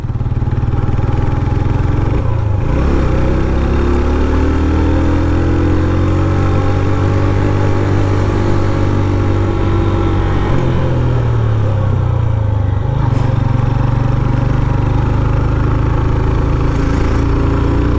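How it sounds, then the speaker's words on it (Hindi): A Honda CB 150F 2021 motorcycle engine climbs and rides on hilly terrain, loud and close throughout, its note rising and falling as revs change, with brief dips as gears shift. "Honda 150F, Honda CB 150F, ये बाइक है जनाब 2021 मॉडल, मज़े से जा रहे हैं।"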